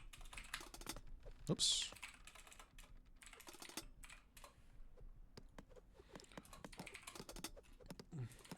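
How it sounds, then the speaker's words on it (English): Steady typing on a computer keyboard, quick irregular key clicks going on throughout at moderate level, with a brief voice heard once. "Can't type. Typing is too hard."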